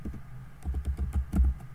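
Soft, muffled keystrokes on a computer keyboard as Python code is typed, a short uneven run of taps heard close up.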